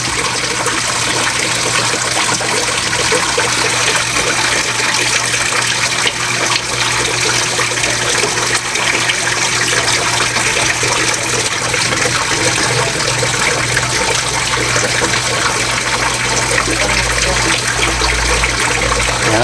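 Water from a homemade filter and small waterfall set up for young tilapia, with a bucket outlet, runs in a steady, continuous trickle and splash close by, with no voices.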